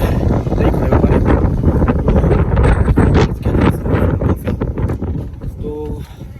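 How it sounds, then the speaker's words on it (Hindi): Strong wind in open Wyoming mountain country roars and buffets against the microphone in loud, continuous gusts, and a voice is heard speaking beneath it. "यहाँ पे बहुत ज़्यादा हवा तेज़ चल रही है"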